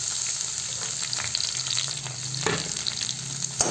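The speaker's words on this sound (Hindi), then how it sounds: "अब हम इसमें डाल देंगे कटा हुआ प्याज।" Chopped onion sizzles and fries in hot oil with garlic for a leafy greens dish, a steady close crackle with light stirring and no voices.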